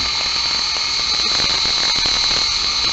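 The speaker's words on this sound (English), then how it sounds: "Props are going to come on." Propellers of a Syma X5UW quadcopter drone spinning, a steady high-pitched whine with faint clicks throughout, close and continuous with no talking.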